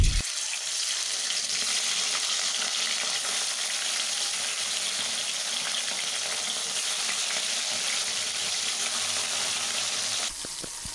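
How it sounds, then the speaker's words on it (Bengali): Bata fish frying in hot oil in a wok, a steady, bright, crackling sizzle that holds evenly throughout at close range, with no voices. "আমি এখানে 5 থেকে 6টি করে মাছ দিয়ে ভেজে নিচ্ছি"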